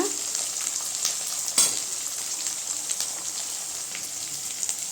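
Chopped onions with curry leaves sauté in oil for a sundakkai kulambu, giving a steady, close, even sizzle with light crackle throughout and one soft knock of a utensil midway.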